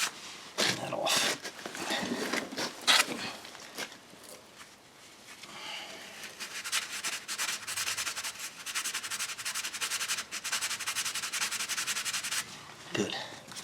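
Grease being wiped off the rear brake pads of a 2011 Toyota Sienna, a quiet, uneven rubbing and scrubbing that comes and goes in close strokes, with faint handling noises.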